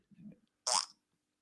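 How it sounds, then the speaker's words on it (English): A single short, loud burp from a person, preceded by a brief low murmur, then quiet. "That's burp, sorry."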